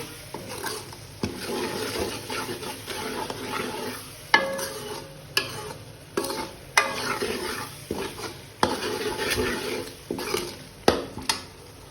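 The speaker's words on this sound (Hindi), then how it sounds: "मसालों को भी हम अच्छी तरह से इसमें भूनेंगे" Spices roast in a pan with spinach for aloo palak, stirred in regular rhythmic strokes, each scrape swelling over a steady close sizzle.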